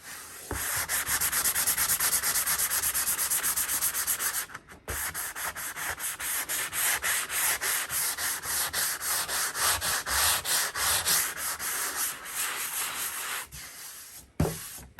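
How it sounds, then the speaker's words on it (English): Steady, raspy sanding of wood, rhythmic back-and-forth strokes at close range, with a brief pause partway through and another near the end. "And sanding that down."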